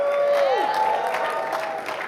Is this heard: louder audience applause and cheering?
yes